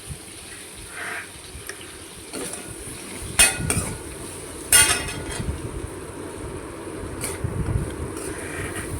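Eggplant pieces with salt and turmeric are sautéed in a pan, a soft ongoing sizzle broken by a few sharp clinks and scrapes of a spatula against the pan as it is stirred, with no talking.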